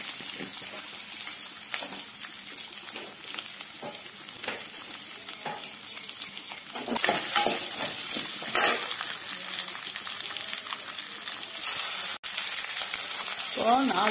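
Mustard seeds sizzle in hot oil, a steady close hiss with sharp crackling pops that grows busier midway through.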